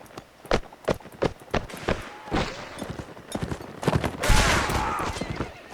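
Musket volleys in a US Civil War mod of a battle game crackle as a rapid series of irregular shots from near and far, thickening into a dense roar near the end, with footsteps among them.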